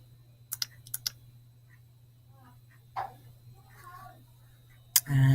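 Computer mouse clicking during a library catalogue search, a few sharp close clicks scattered over a low steady hum, with quiet sounds in between.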